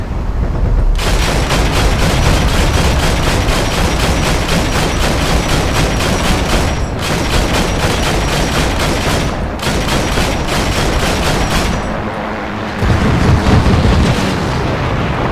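Tank cannon fire in Heroes & Generals, crewing a German Pz I ausf A, with loud sustained rapid-fire bursts and booming shots over continuous engine and battle rumble, broken by a few short pauses.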